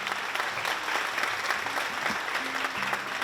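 Loud, dense applause from an audience at an award ceremony rolls on steadily throughout, close and full.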